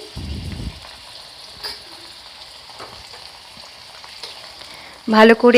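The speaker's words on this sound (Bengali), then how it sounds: "টমেটোর টুকরোটা দিয়ে এর মধ্যে একটু নুন দিয়ে দিচ্ছি" Tomato pieces fry in a pan with a little salt, giving a steady, moderate sizzle throughout, with a brief stirring scrape early on and a voice speaking over it near the end.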